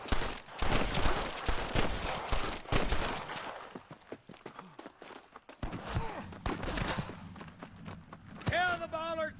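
Sniper gunfire in Red Dead Redemption 2 rings out in dense, rapid bursts of shots with hoofbeats and shouting voices mixed in, easing off midway and then picking up again near the end.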